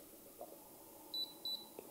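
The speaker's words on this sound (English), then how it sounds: "beep. So you know then that it's finished its scan" A Realsee Galois M2 360 lidar camera signals a finished scan with two short high electronic beeps, faint and a little distant against quiet room hum.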